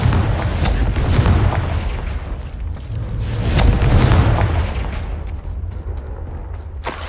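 Confringo blasting spell explosions in the Hogwarts Legacy video game: loud booming blasts with rumbling tails, swelling around the middle, then fading to crackling debris.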